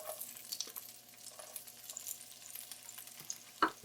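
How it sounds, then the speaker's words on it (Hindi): Chopped medium onion sautés gently in three to four tablespoons of olive oil in a pan for Italian garlic soup. It gives a faint, soft sizzle throughout, with a brief utensil clatter near the end. "एक अदद मीडियम प्याज डालना है चॉप करके, हल्का से उसको सॉटे करेंगे।"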